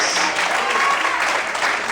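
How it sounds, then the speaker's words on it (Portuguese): A church congregation applauds during a sermon, a brief, dense burst of many hands clapping, with a faint voice mixed in. "Será que você pode aplaudir e exaltar a Deus por isso?"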